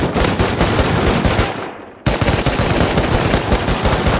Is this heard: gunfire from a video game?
yes